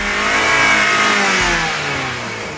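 A Toyota engine revs hard and steadily, its pitch holding high and then sagging slightly, as if the gas pedal were stuck down by a wrong-sized all-weather floor mat. It is loud and close, with no voices.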